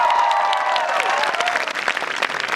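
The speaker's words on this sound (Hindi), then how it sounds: "इनके हैवी वेट के हिसाब से तालियां बजाई जाए।" Audience claps at the valedictory function of a wellness conference, a dense, steady round of applause with a few tonal voices or sounds over it early on, fairly loud and close.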